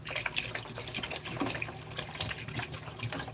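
Lukewarm water pours from a jug into an old reservoir, a steady, close splashing gush with a bubbling, gurgling texture that runs through the whole stretch without a break and with no voices.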